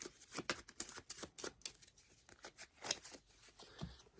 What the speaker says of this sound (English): I'm at 5 cards, so I need to shuffle up.